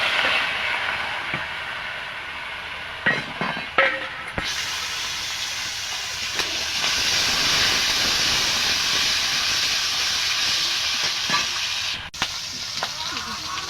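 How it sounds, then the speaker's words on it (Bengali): Turmeric- and salt-rubbed shing fish dropped into hot oil in a wok, a loud, close, continuous hissing sizzle that swells after a few early clunks and splashes and then holds steady. "তেলটা গরম হয়ে গেছে, মাছগুলো ভেজে নেব।"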